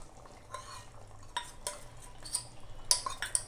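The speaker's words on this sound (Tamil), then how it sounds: "இப்போ நம்ம அரைச்சி வச்ச தேங்காய் விழுதை இதில் சேர்த்துக்கலாம்." A spoon stirs ground coconut paste into a boiling crab curry in a metal pot, with scattered clinks and scrapes against the pot over a faint simmer.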